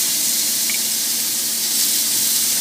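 Adobo sauce basting onto tuna belly and pork belly on a barbecue grill gives a steady, close, loud hiss and sizzle that runs unbroken and without voices.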